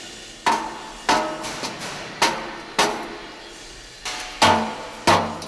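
Steel plate being straightened by hand with a hammer at a safe-making factory: about eight or nine sharp, ringing metallic blows at an uneven pace, close and loud, with no talking.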